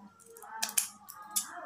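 Several quick crisp snips of scissors, irregularly spaced, close and fairly quiet, with a faint low murmur underneath.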